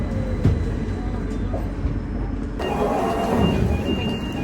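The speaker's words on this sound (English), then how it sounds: "This is a Victoria Line train to Walthamstow Central." Victoria Line train on the London Underground, a steady loud rumble and rattle of the carriage in motion with a shift in tone partway through, voices faintly present.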